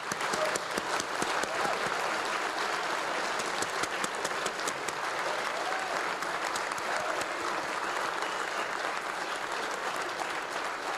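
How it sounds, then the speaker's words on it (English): An audience at a leadership awards ceremony applauds the nominees called forward, sustained dense clapping at an even level for the whole stretch, filling the room without pause. "Let's share our applause with them."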